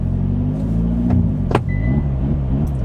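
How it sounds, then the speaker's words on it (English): A 2022 Hyundai Kona N revs hard during a launch control start with wheel spin, a loud close engine roar that rises in pitch, with brief squeals and a gear-change dip midway. "We're going to try out a launch though. Here, so we can do some launch control."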